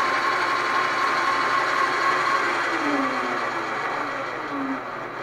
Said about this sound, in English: Little gear whining, but not too bad.